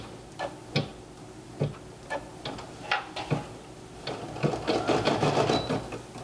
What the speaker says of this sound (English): And just start it in your machine.